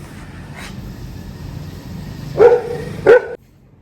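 A Labrador at home barks twice in quick succession, two loud, close, sharp barks near the end over a low steady background hum, then sudden quiet.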